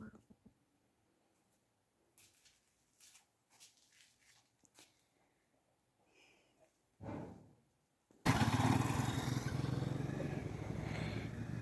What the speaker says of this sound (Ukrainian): це мій племінник вчиться їздити мотоциклом